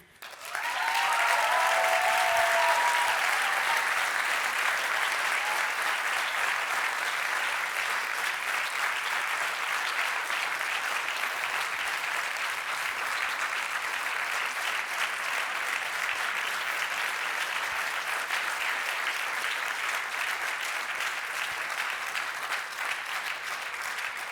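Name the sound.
audience applause at an award ceremony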